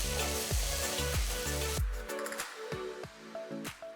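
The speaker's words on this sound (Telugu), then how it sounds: "ఇందులో తరిగిన 2 టొమాటోల్ని వేస్తున్నాను. టొమాటోలు బాగా మగ్గేంత వరకు వేయించాలి." Chopped tomatoes hit a hot pan with ginger garlic paste and sizzle loudly at first, then settle into a steadier frying crackle. Repeated low scraping strokes of stirring run throughout, with no voices.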